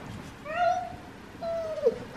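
Sphynx kitten giving two short, high meows about a second apart, fairly close and clear over a quiet indoor background with no talking.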